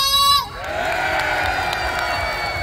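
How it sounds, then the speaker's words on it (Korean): A festival crowd at the closing-ceremony stage of the Muju Firefly Festival breaks into loud, sustained cheering and shouting right after a brief voice, a broad wash of many voices that stays steady to the end. "자, 즐거우시다면 박수와 함성!"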